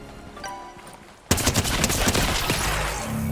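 Rapid gunfire from hunting rifles fired from the air in a video game, erupting suddenly after a quiet stretch and continuing as a loud, dense volley of cracking shots.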